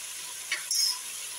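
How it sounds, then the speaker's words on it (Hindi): Whole dried chillies and garam masala spices roast in a pan, a faint, quiet sizzle with a brief scrape of stirring near the middle. "बस दो मिनट के लिए ये मिक्स मसाला मैंने भून लिया है"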